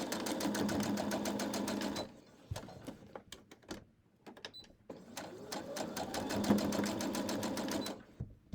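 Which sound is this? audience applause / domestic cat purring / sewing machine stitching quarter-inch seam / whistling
sewing machine stitching quarter-inch seam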